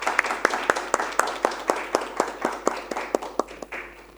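Sparse applause welcoming panelists at a diversity and inclusion awards event: distinct individual claps in a steady beat, a few hands near the microphone over a faint room murmur, fading slightly toward the end.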